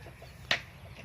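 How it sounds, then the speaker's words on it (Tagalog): A chicken in a backyard coop gives a single short, sharp cluck amid low yard ambience, fairly close and alone without talk. "Ayun po yung kulungan ng manok."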